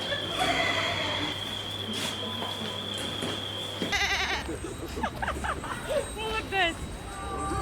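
A goat bleats amid a traditional Ukrainian Malanka nativity-play celebration, likely a performer's voice imitation, heard against crowd murmur and shifting voices, with a steady tone in the first half giving way to busy, chattering sounds.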